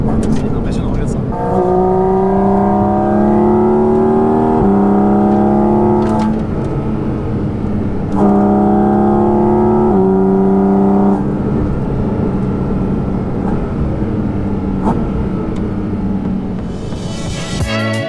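A 500 hp Porsche Cayman GT4 RS engine rises and falls through a series of bends on a country road, its revs climbing in repeated strong pulls, heard from inside the car under someone talking.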